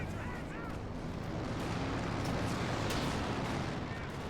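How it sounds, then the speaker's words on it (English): Strafing run gunfire in Company of Heroes 2, a dense continuous roar of rapid shots and booms from a battle, steady and fairly loud throughout. "The strafing run doing some nice damage from PFC now."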